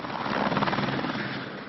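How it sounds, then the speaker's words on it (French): Helicopter rotor and engine noise, steady and fairly loud, droning continuously throughout with a rhythmic blade chop, recorded from a tourist flight toward the Grand Canyon. "Pas de problème donc pour l'hélicoptère, le clou du tour."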